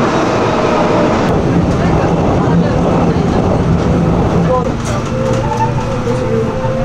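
A subway train ride in Korea, with steady rumbling rail and carriage noise filling the background throughout, close and continuous, with faint sounds from the car layered on top.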